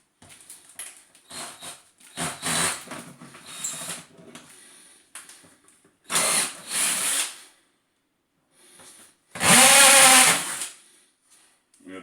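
Power drill boring small holes in a 20 liter plastic bucket being made into a bee swarm trap, several separate loud bursts of drilling with short pauses between them.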